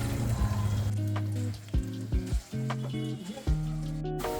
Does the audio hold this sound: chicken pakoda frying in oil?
yes